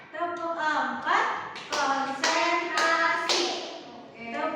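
Children in an elementary school classroom clap in short rhythmic bursts during a class clapping routine, a series of sharp, bright claps grouped in quick patterns with brief pauses between sets.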